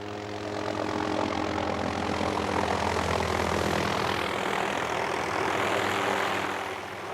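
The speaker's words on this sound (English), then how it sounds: "Helicopter gunships joined in the battle to save the forest." A helicopter's engine and rotor drone loudly and continuously as it passes overhead, the pitch shifting slightly as it moves by.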